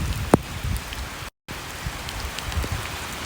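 Steady heavy rain falls in Ukraine, a dense hiss of drops on surfaces with a few louder splashes, broken by a brief moment of silence midway.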